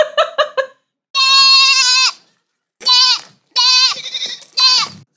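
A person mimics a goat with several bleating calls: a quick stuttering burst, then long wavering bleats separated by brief silences, close and loud.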